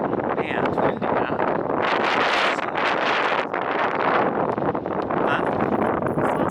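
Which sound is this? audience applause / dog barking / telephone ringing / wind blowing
wind blowing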